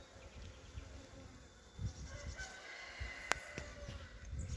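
Honey bees buzz around an open beehive as colonies are being combined, a soft continuous droning hum with individual bees flying close past, plus scattered faint knocks and a sharp click.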